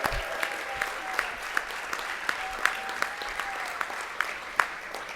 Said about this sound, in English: everybody wave at Bukta, and then cheer loudly to congratulate him